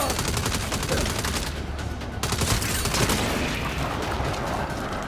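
Rapid bursts of gunfire clatter through a video game shootout, dense volleys of shots overlapping almost without pause for several seconds, loud and close.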